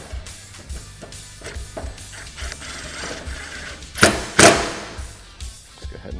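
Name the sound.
ratchet tightening roof mounting hardware on Can-Am Maverick X3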